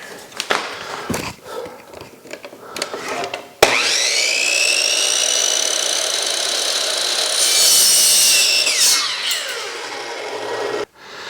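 A power tool cuts through the rubber grip and hard plastic sleeve on an e-bike handlebar, with a few scraping rubs before a sustained close, whining high-pitched cut lasting several seconds that ends abruptly.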